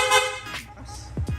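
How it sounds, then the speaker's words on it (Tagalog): A PIAA loud horn fitted to a Yamaha Sniper 155 motorcycle gives a short honk, with a couple of quick low blips after it, close and loud. "Sir, pa-activate naman ng loud horn."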